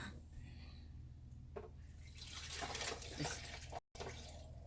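Faint coffee pouring over ice with a gentle trickling wash that swells midway, then a brief dropout before the quiet pouring continues.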